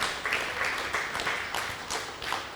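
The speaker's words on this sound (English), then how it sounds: "Can we have a round of applause, please, for all of them?" An audience at an oncology summit panel claps for cancer survivors, moderate applause from a fairly small crowd with some individual claps standing out, fading gently and picking up again over a few seconds.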